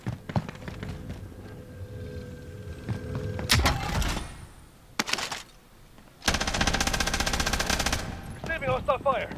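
Bursts of automatic gunfire in Call of Duty Warzone on Rebirth Island, with rapid machine-gun volleys, sharp single shots and a long sustained burst near the end, loud and close amid game ambience.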